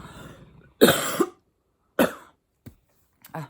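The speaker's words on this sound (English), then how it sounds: "I always feel like it sounds really loud if I cough" Two sharp coughs, then a few smaller throat-clearing bursts, close and loud, with silence between them.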